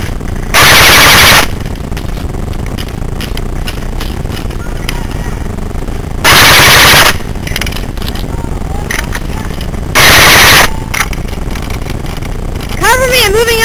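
Airsoft guns firing in a capture the flag game, with three loud sustained bursts of rapid full-auto fire spaced several seconds apart, close to the microphone, while players talk in between.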